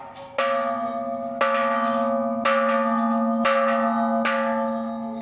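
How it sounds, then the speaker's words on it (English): A large temple bell at the Golden Mount in Bangkok is struck five times at a slow, even pace, each clang ringing out loud and resonant, its hum lingering between strikes. "I was gonna record you ringing the bell"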